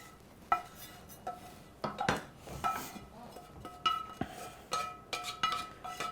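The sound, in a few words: mixing arancini ingredients with cheese and mushrooms in a bowl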